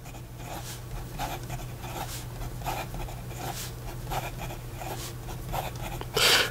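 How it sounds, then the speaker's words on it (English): A Lamy Aion fountain pen scratches quickly across paper in short, rhythmic strokes, close and fairly quiet, ending with a louder rustle. "And then in regard to some fast writing,"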